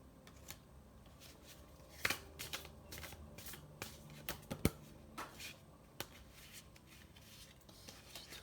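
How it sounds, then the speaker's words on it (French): Oracle cards being shuffled by hand, with soft riffles, taps and a few sharp clicks as cards fall, quiet and close with no talking. "J'ai toutes les cartes qui tombent en même temps."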